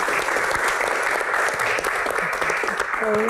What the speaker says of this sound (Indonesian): Tepuk tangan untuk Ibu Ria Sungkar.